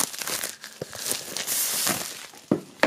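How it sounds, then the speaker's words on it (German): Plastic shrink wrap is cut open and peeled off a boxed music release, giving close, continuous crinkling and crackling with a few sharper tearing snaps and no talking. "So, einmal hier aufschneiden, dann gleich die Folie abziehen."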